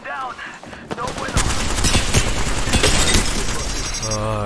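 Dense, loud volleys of rapid gunfire in an Apex Legends match, with overlapping bursts and shots running almost continuously through the clip.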